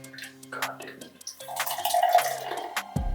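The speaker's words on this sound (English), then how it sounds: "That was a terrible pour, my man." Busch Light beer is poured into a glass, giving a short gush and fizz of liquid with splashing, while voices talk over it.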